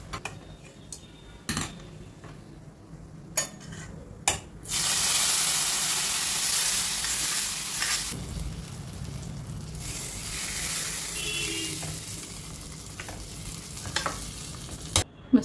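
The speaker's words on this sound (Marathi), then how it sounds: "तर हा तडका आपल्याला भाजीवर घालून घ्यायचा आहे" Hot sesame seed tadka poured over garlic spinach, a loud steady sizzle that swells for several seconds then fades, with faint utensil clinks before and after.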